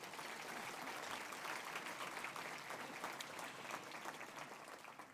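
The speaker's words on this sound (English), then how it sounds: "If you can give them a round of applause, please." Sustained applause from a sizable crowd at an annual membership gathering fills the whole stretch, steady and dense, fading slightly at the end.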